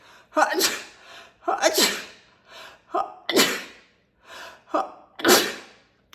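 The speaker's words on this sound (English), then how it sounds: "Oh, I have to sneeze" Several sharp human sneezes, about five of them, each burst with a quick breathy intake before it, loud and close, spaced roughly a second apart with no other sound between.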